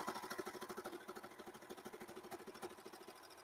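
A Baby Lock serger stitches and trims fabric with a rapid, even mechanical chatter, close and faint, holding a steady rhythm throughout.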